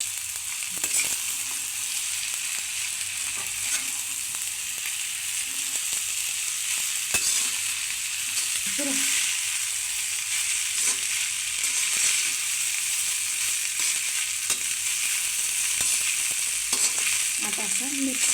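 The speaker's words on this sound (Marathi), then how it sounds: "आता असं मिक्स करून घ्यायचं आहे, चांगला असा गरम होईपर्यंत।" Rice with vegetables and salt stir-fried in a pan: continuous loud sizzling with scattered scraping and stirring knocks, close and unbroken, no voices.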